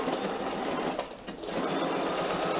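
Sewing machine stitching right along the edge of a small batik wallet, a steady close whirr that runs almost continuously with a brief slowdown partway through.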